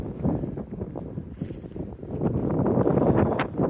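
A strong wind gust in high winds roars and buffets a tent anchored with a Catal wind anchor, a dense continuous rush close to the microphone that swells stronger toward the end.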